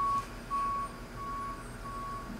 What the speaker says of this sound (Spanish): ¡Ay, los camiones!